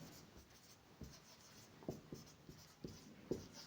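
A pen writing on a board, faint scratchy strokes and taps coming in short irregular bursts against quiet room noise, with no talking.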